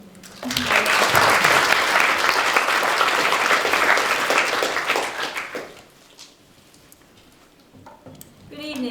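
Audience applause for a speaker at a TEDx event at Lancaster University swells in quickly, holds dense and even for about five seconds, then fades away to near quiet with a few stray sounds.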